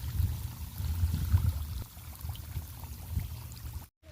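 Irrigation water from a motor pump runs into a wheat field, making a low, continuous gushing and pouring sound. It stays fairly close and steady, swells now and then, and ends abruptly.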